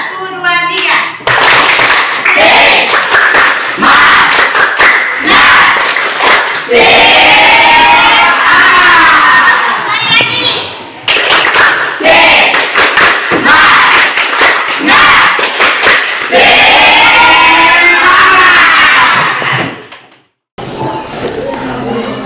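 Schoolchildren in an Indonesian classroom clap in rhythm while chanting the tepuk semangat song, loud, close and sustained, led along by their teacher's voice.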